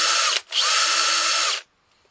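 Bosch DDS182 brushless compact drill spinning at full speed, a loud close whine in two bursts split by a short dip, then stopping abruptly.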